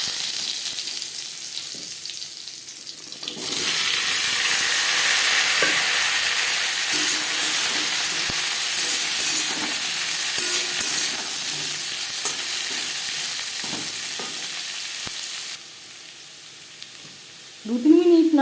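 Papaya pieces hit hot oil already frying cumin seeds, dried chili and bay leaf, bursting into a loud, steady sizzle that runs for about twelve seconds with occasional stirring clinks before dying down, then a brief voice at the end.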